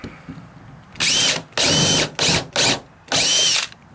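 A power drill with a number 10 countersink bit cuts into wood on a porch swing build, five close, loud whirring bursts of varying length separated by short pauses.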